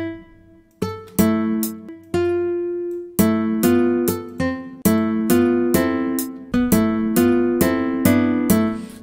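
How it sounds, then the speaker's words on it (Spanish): An Omnisphere guitar preset plays a chord progression in FL Studio, one plucked chord per beat in a steady four-beat pattern. The strums are crisp, bright and clear, with nothing else heard. "he seleccionado esta guitarra aquí del Omni"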